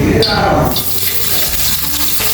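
Hot pan frying for mutton biryani over a medium flame, a loud steady sizzle with crackling and a stirring scrape, continuous and close throughout.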